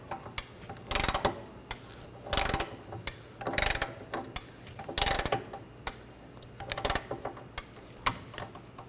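A torque wrench tightens a rear upper control arm bolt on a 2009-2013 BMW 328i xDrive, giving several loud ratcheting bursts in a repeated rhythm with clicks and metallic handling between strokes, close up.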